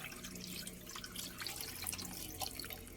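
Water poured into puto cheese batter in a bowl, a quiet, continuous trickle and splash with faint drips, close up and alone.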